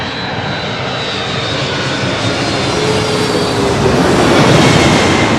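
Airliner engines roar at LAX, a loud, close broadband jet rush that swells gradually toward the end, with no voices over it.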